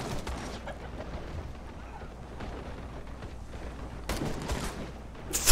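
Gunfire and explosive blasts rumble through a multiplayer match of the war game Call to Arms, a steady distant battle din that swells into heavier bursts near the end.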